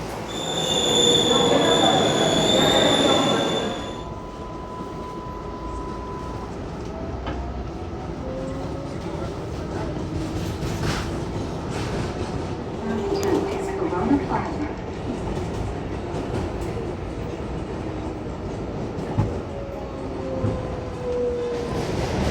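A New York City 7 subway train rolls past Corona Plaza at 103rd Street, loud at first with a sustained metallic wheel squeal, then fading into a continuous rumbling street ambience with faint distant voices.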